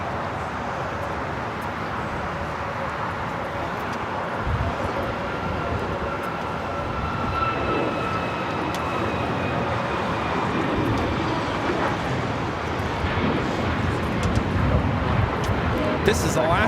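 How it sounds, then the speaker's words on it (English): An Alaska Airlines Boeing 737 MAX 9 takes off at Los Angeles International Airport, a steady broadband engine roar that builds and holds throughout, with a faint whine riding above and voices murmuring underneath. "1364 taking off to Cancun on the MAX 9"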